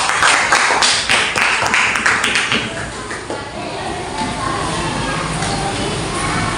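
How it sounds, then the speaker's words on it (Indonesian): A classroom of students applauding during a micro-teaching lesson, brisk close clapping for about three seconds that tapers into room murmur and shuffling. "berikan tepuk tangan"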